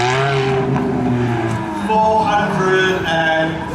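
A Ferrari 458 Spider's engine runs steadily at a Brands Hatch Ferrari festival, a loud sustained tone that rises and shifts pitch as the car moves, with crowd noise and faint voices underneath.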